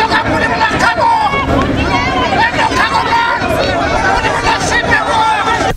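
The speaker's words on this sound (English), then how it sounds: "The crowd disagreeing with the casket of Grand Chief being placed in the cargo end" A large crowd at a funeral for a grand chief shouts and argues in loud, continuous overlapping voices, a dense babble of protest with no single voice standing out.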